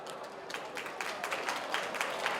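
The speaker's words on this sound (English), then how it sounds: "Let's give a big applause to him" An audience at a gala dinner applauds Professor Henry Chen: steady, dense clapping from a crowd, moderately loud and continuous for the whole stretch.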